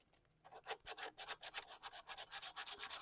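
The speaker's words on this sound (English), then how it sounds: "Just get a quickie in, a little bit of sanding" Hand sanding of wood in a cedar workshop: after a brief quiet start, rhythmic back-and-forth abrasive strokes repeat steadily, close and fairly soft, about six strokes per second.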